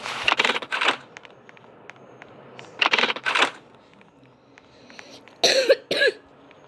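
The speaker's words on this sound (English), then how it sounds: "I have cough. That's why I'm coughing." Several short clusters of dry coughing from a child with a cough, spread over a few seconds with quiet pauses between them.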